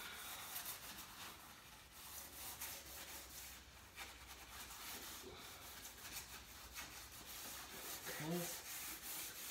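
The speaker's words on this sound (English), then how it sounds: "Just keep rubbing it in. In the grain, Jack. Gotta get in the grain." A steel wool pad soaked in vinegar stain rubs back and forth along wood grain, making a continuous, close, rasping scrub. One brief spoken word comes partway through.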